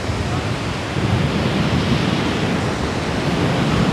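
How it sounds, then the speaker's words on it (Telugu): Sea waves washing onto a beach in the rainy season with a cool wind blowing, a continuous close roar of surf mixed with wind buffeting the microphone, loud and unbroken. "వచ్చేసాము సముద్రం కాడికి బా చల్లటి గాలి వస్తుంది"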